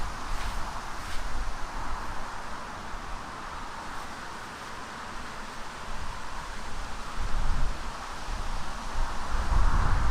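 Wind blows across an outdoor golf course, a steady broadband rush buffeting the microphone and swelling in gusts toward the end, with no other clear sounds above it.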